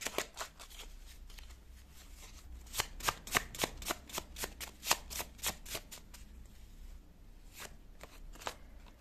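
Tarot cards are shuffled in a run of crisp, rapid riffling flicks, some bursts close together and others spaced apart, fairly quiet with no talking.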